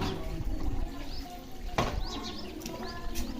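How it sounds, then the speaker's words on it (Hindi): Water sprayed in a strong stream while a motorbike is washed during a bike service, a steady wet hiss with splashing and a sharp burst near the middle, birds chirping faintly in the background. "हम मोटा मोटा पानी मार रहे हैं"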